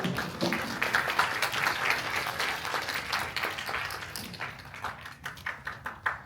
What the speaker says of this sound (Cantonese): 掌聲有請